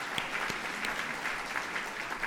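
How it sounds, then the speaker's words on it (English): Guests at the ANCA Western Region 2019 annual gala banquet in Beverly Hills, around a thousand people, applaud the banquet committee in a steady, dense wash of clapping that lasts throughout, heard at a moderate distance with no talk. "let's give them a round of applause"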